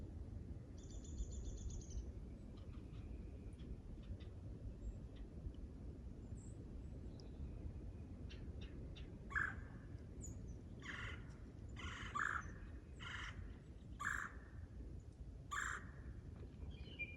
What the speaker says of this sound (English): Just that quiet. Just the birds.